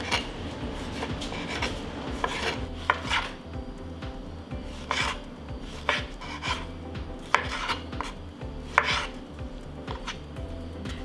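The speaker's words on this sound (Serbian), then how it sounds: "3 kg opranog paradajza i seći ću na kriške" A knife cuts washed tomatoes into slices for a preserve, about three kilograms of them. The chops land close and fairly loud in an uneven, quick rhythm, with a busy kitchen rasp between the strokes and no voices.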